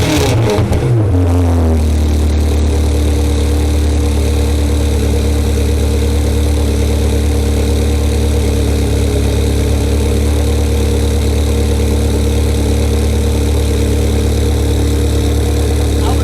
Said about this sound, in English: Capristo comes in 3 stages, 1, 2 and 3, and this is the one that makes the most sound